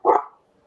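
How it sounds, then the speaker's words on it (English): A single short dog bark sounds close and loud on a farm, then dies away into quiet, with no talking. "My dog's barking."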